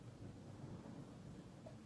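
Low, distant thunder rumbles steadily through a thunderstorm, a soft continuous roll with rain texture and no voices.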